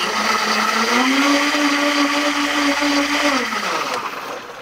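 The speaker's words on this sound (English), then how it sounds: "it's better with a blender instead of just stirring it" A blender whirs steadily while mixing coffee with superfood creamer, its motor pitch rising and holding, then winding down near the end, loud and close with no talking.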